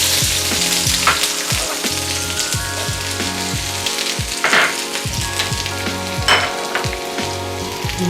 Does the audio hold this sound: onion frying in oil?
yes